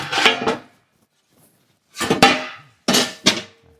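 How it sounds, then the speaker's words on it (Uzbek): The ash pan of a metal universal cooking stove slides down in a few short, loud metallic scrapes and clanks, separated by a brief silence, with no talking. "Kulxonasi pastga o'tdi."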